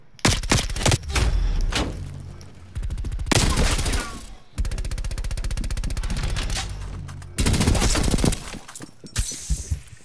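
Video game gunfire in dense, rapid automatic bursts, several long sustained volleys separated by short pauses, loud and close, with no talk over it.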